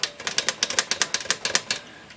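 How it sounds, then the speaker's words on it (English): A stiff, sticky carriage on a Royal 10 manual typewriter clatters as it is moved, giving a quick, even run of a dozen or so loud ratcheting clicks with a grinding edge that trails off at the end. "this carriage that's just squeaking and grinding as you move it side to side"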